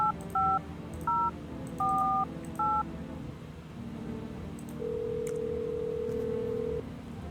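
Touch-tone telephone keys are dialed in the video game No, I'm Not a Human, giving several short paired beeps in an uneven rhythm. A longer steady ringing tone follows, with no voices.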